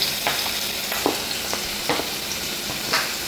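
Ginger, garlic and cardamom seeds sauté in hot oil in a pan for a fish molee, a steady loud sizzle broken by several scraping stirs of a spoon.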